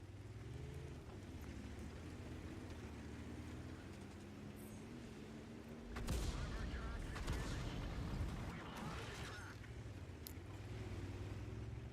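Artillery shells slam into a tank in World of Tanks, a broad burst of impact rumble and crackle rising mid-clip over a steady engine drone, fading back to the idling hum.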